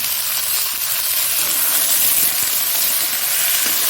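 Green peas, tomato and green chillies fry with onion in a wok, giving a loud, continuous steamy hiss and sizzle that holds steady throughout.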